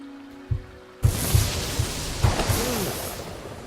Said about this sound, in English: We'll begin by striking these straw dummies with lightning.